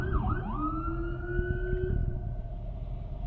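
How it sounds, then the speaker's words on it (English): Emergency vehicle sirens wail from somewhere nearby while a Chevrolet Bolt EV waits at a traffic light, a steady rising and falling tone over constant low road rumble, loud and continuous throughout. "We got sirens coming from somewhere."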